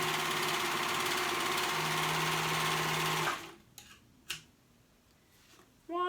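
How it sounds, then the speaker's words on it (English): A sewing machine stitches the short raw edge of a fabric band for a cold shoulder romper, running loud and steady for about three seconds before stopping, followed by a few soft handling clicks and a brief restart at the end. "we're gonna sew that raw edge, that short raw edge, to make it one continuous band"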